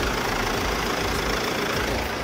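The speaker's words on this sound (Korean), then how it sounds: "이렇게 영상에서 듣는 것처럼 디젤 엔진이라 어느 정도 소음은 있지만" A Mercedes-Benz E-Class diesel engine idles with the hood open, giving a steady, close, even rumble with a slight clatter and no change in pace.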